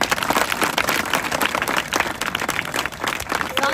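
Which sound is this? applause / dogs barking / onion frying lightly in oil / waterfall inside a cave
applause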